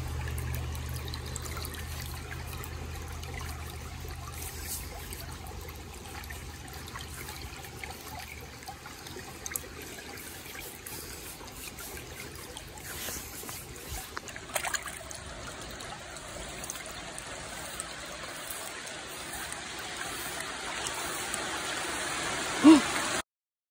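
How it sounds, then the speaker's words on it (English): Creek water trickling and flowing steadily outdoors on a hot day as rain begins to fall, a continuous close watery wash with light patter building toward the end. "Shaving my legs in the creek and it started raining."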